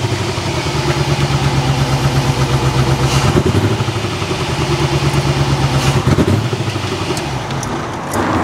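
A barn-find Corvette C4 ZR-1 engine idles roughly and loudly up close, its uneven chugging rhythm stumbling and surging, with a couple of brief revs.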